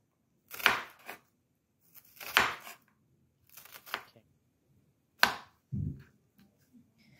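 A handful of sharp knife chops through onions on a cutting board, spaced irregularly with quiet pauses between them.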